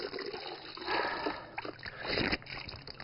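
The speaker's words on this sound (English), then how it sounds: "我洗一下脸啊" Water splashes and trickles softly as someone washes their face with fresh water in the tea-growing hills of Yudu, with a few fuller splashes among quiet dribbling.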